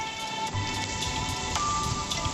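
Raw mango pieces dropped into hot oil with black mustard seeds and dried chillies, giving a dense, continuous crackling sizzle with sharp pops throughout.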